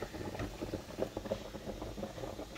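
Rice simmering in a boil-in-bag pouch in a pot of water, a soft, steady bubbling patter close by with no voices.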